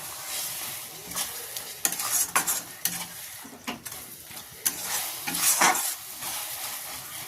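Pea ghugni masala fries in a kadai with a continuous sizzle while a spoon scrapes and stirs it, producing irregular clanks and scrapes against the metal pan, close up and with no voices.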